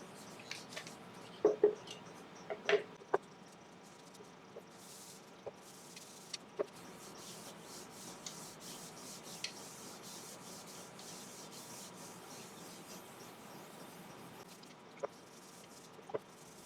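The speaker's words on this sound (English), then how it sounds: "So now we'll just burnish the oil in a bit." Soft, faint rubbing of a cloth burnishing citrus oil finish into a turned wooden platter on a lathe, a steady low hiss broken by a few sharp clicks and taps.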